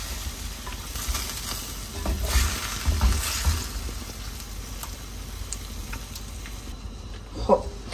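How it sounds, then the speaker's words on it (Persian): Chicken vavishka with saffron sizzles steadily in a hot pan while a utensil stirs it, with scraping and a soft clink near the end. "حالا خوب همش میزنیم"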